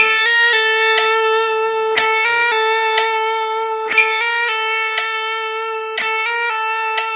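A guitar plays a lead lick of 16th notes using hammer-ons and pull-offs. The clean, ringing notes slur smoothly together, and the short phrase is repeated about four times at a slow, even tempo.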